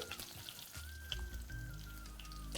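Mango pieces dropped into hot oil with mustard seeds and chillies, a steady sizzle and crackle of frying starting partway through and continuing close and fairly loud, with no talk.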